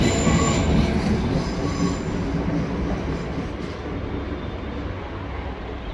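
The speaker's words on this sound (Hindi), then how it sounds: "मेट्रो दिखाओ, मेट्रो आ रही है, ये देखिए मेट्रो यहाँ से कैसे जाती है नीचे से।" A metro train passing below an apartment rumbles past steadily, wheels grinding and squealing on the rails, loud and continuous throughout.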